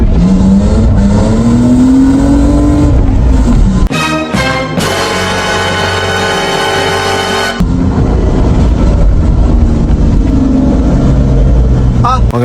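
A BMW E30 drives with a loud, droning engine that rises and falls with revs and briefly shifts to a harsher, steadier roar midway. A voice talks intermittently over it.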